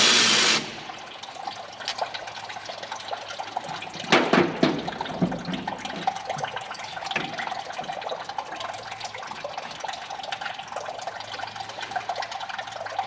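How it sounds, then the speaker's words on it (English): Coolant draining from a Chevy Nova SS radiator makes a steady trickling and splashing, with a brief louder gush early on, close and moderately quiet in a garage. "the radiator's not drained all the way yet"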